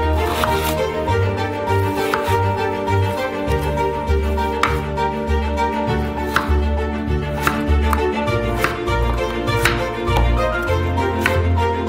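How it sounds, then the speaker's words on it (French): A knife chops through peeled potatoes on a cutting board, slicing them into medium-sized fries with a steady run of crisp, close taps while a faint musical hum continues underneath. "On les coupe en frites de taille moyenne."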